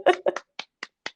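A few hand claps, close and crisp: a quick cluster of sharp claps followed by three evenly spaced single claps fading slightly.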